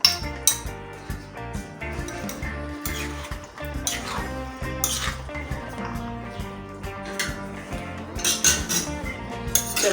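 A large spoon clinks and scrapes against a bowl while Russian salad with pineapple is mixed, producing a continuous run of close metallic taps and rattles with no voices.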